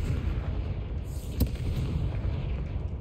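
Confringo blasting spell going off in Hogwarts Legacy: a single sharp crack-like burst in the middle over a steady rumbling bed of game ambience, moderately loud.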